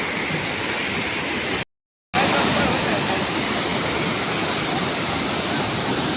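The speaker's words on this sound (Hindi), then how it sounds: "यही है काकोसांग वाटरफॉल" Kaipholangso (Kakosang) waterfall in Karbi Anglong, a steady, loud, close roar of forcefully rushing water that fills the scene, with one brief cut to silence near the start.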